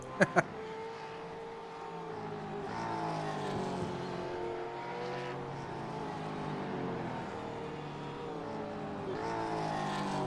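Gen 3 Supercar racing engines at Watkins Glen in the iRacing video game, a continuous droning whine that rises and falls through gear changes, with a couple of sharp clicks at the very start.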